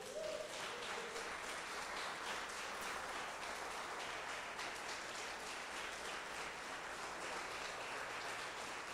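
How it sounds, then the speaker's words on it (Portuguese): A church congregation applauds at the first service of the year, steady dense clapping filling the room for the full stretch without letup, loud and continuous with no voices rising above it. "Você pode aplaudir Jesus?"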